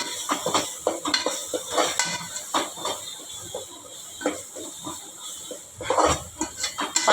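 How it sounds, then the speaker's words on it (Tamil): A spoon scrapes and clanks against a pan while chicken curry masala is stirred and fried, with a steady sizzle underneath and irregular, close metallic knocks throughout. "ஆட் பண்ணிவிட்டு நல்லா மிக்ஸ் பண்ணிக்கோங்க"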